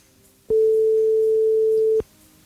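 A single steady electronic tone on a studio call line, like a telephone ring or line signal, sounds loud and unbroken for about a second and a half before cutting off abruptly.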